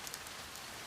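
Rain sound effect in a radio drama, a steady dense hiss of falling rain, soft and continuous with no voices.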